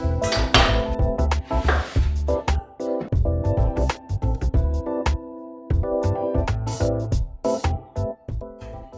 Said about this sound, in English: next I'm going to be chopping up these vegetables